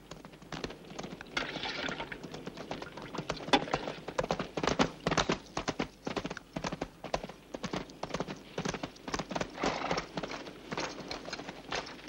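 Horse-drawn carts arriving, hooves clip-clopping in a steady uneven rhythm on hard ground, moderately close and fairly quiet, with faint rattling of wheels and no talk.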